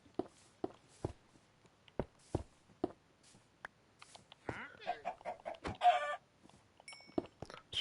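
A chicken clucks close by in a few short, throaty bursts, with scattered sharp taps and knocks around it and a faint voice nearby.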